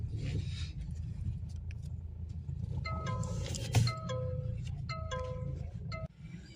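A new-generation Mahindra Scorpio used as an army vehicle drives along with a steady low engine rumble inside the cabin, punctuated by rhythmic indicator-like ticking chimes and a brief thump midway, no talking.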